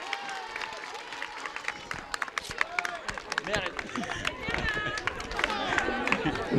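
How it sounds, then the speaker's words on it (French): Crowd applause and clapping spread through a lively hall at a health centre inauguration in Senegal, mixed with chatter and cheering voices, building steadily over several seconds. "Alors merci d'applaudir cette grande femme."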